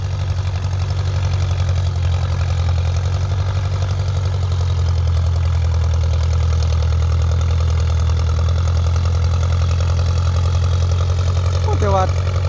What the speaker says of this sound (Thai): รถไถฟอร์ดครับ